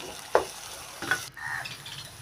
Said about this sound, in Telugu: అల్లం వెల్లుల్లి పేస్టు ధనియాల పొడి కొద్దిగా గరం మసాలా వేసుకోవాలండి వేసుకుని బాగా కలుపుకోవాలండి